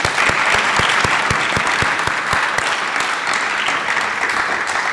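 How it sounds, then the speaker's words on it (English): Cadets and guests applaud parents at a flight academy graduation ceremony at the University of Maryland Eastern Shore, dense sustained clapping from a large crowd with a few sharp nearby claps standing out. "Cadets, join me in giving your parents a round of applause."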